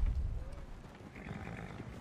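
A horse in Red Dead Redemption 2 gives a short snort or whinny over a low rumble. Faint hoof and tack movement follows, and someone talks softly nearby.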